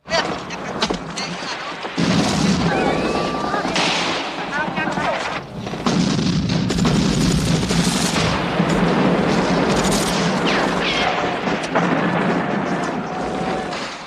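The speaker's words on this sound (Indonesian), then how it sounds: "terjadi ledakan dahsyat yang sangat mengejutkan" A sudden heavy blast opens a loud film battle scene, followed by dense rolling gunfire and booming artillery-like explosions that keep thundering throughout.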